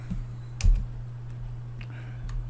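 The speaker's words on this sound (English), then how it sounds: "I'm just using the cursor keys on the keyboard." Cursor keys pressed on a computer keyboard while setting up a Raspberry Pi, giving a few faint scattered clicks over a steady low hum, with one slightly louder tap near the start.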